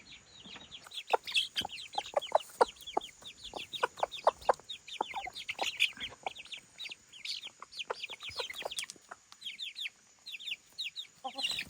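A small flock of free-range chickens clucks busily up close while pecking at chickpeas, a dense run of short, overlapping clucks and chirps that continues for about twelve seconds.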